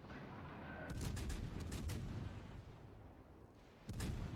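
Warship guns in World of Warships Legends fire in a quick cluster of booming shots, a thudding salvo around the middle and another blast near the end, over a steady low rumble of sea battle ambience.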